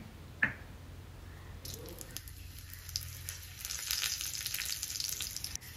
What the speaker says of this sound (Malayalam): ഇനി നമുക്ക് കുറച്ച് എണ്ണ ചൂടാക്കി അതിൽ ഒന്നോ രണ്ടോ വറ്റൽമുളകും അതുപോലെ ചതച്ച് വെച്ച നമ്മുടെ വെളുത്തുള്ളിയും ചേർത്ത് ഒന്ന്